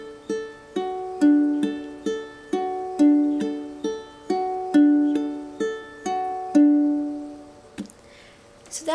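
Ukulele fingerpicked through the chorus of a song, with a steady run of clear plucked notes that ring and decay in even groups, ending with a few softer handling noises.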